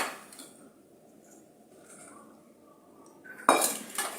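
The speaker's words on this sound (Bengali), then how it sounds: "দেখো এখন আমি মাছটা ঢেলে দেবো।" Shing fish poured into a pot of boiling broth, a sudden close clatter and splash of metal and liquid breaking a quiet stretch, followed by a few softer knocks.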